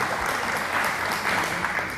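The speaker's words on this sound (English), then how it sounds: "So clapping, it worked." Audience applause at a technical talk on customizing the Pharo programming environment, a dense steady clatter of many hands lasting about two seconds, fairly loud and close, with no voices over it.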